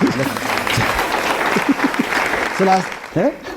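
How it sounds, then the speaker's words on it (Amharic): Audience applause from a crowd at a stage talk show with an Ethiopian singer, a steady wash of clapping lasting a few seconds with a voice speaking over it in bursts. "አጨብጭቡለት በእናትህ።"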